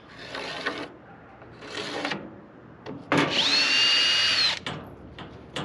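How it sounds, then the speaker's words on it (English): A power drill boring pilot holes in wood, with several short bursts of whirring and a longer steady run, close and loud, separated by brief pauses. "I also drilled myself pilot holes in all my locations"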